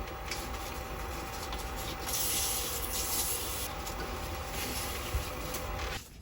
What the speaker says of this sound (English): We'll sand up to 400 and call it good.